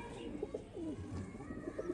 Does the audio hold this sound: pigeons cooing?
yes